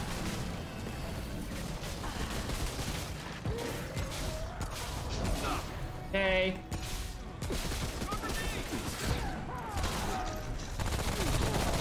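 Rapid bursts of gunfire from a Rattling Gunner enemy in the game Remnant: From the Ashes, with dense, rattling shots running throughout, mixed with game sounds.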